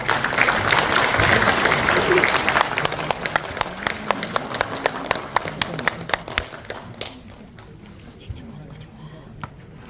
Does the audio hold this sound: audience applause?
yes